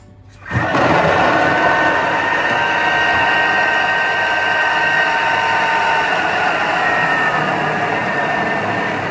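A kitchen machine blitzes cold shortbread pastry dough on speed 6, a loud steady whirring roar that starts abruptly and holds evenly for several seconds.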